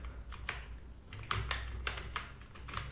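Quick typing on a computer keyboard while writing code, a run of soft irregular key clicks with small pauses between bursts, close and fairly quiet with no voices.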